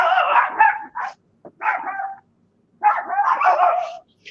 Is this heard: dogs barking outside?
yes